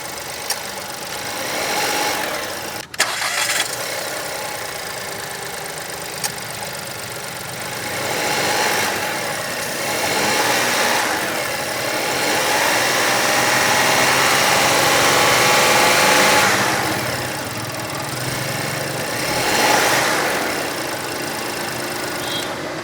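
A 2025 VW Taigun GT Line three-cylinder engine starts, then settles into a steady idle with a rough, pulsing hum, close and continuous, with no talking.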